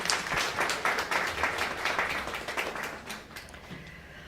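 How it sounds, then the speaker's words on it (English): A crowd at an announcement event for college football national championship performers in Houston breaks into lively applause that gradually thins and tapers off. "Janice and Bill, let's give you guys a round of applause."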